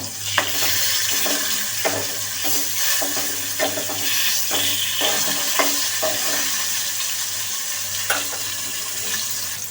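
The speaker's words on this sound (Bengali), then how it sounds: "মাছগুলো উল্টে পাল্টে নিব" Fish fry in soybean oil in a wok-style pan, giving a loud, steady close sizzle throughout, with repeated light knocks and scrapes as the pieces are turned over.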